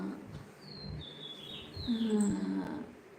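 Sparrows building a nest on a wire give thin, high chirps and short tweets, a few scattered calls against quiet outdoor background.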